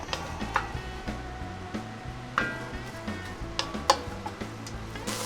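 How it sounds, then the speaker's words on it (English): Chopped onions sautéing in olive oil in a Dutch oven over medium-low heat, a steady close sizzle with scattered ticks and occasional clinks of a utensil against the pot. "I'm gonna add a little bit of olive oil. Got some chopped onions. We'll get this sauteed up."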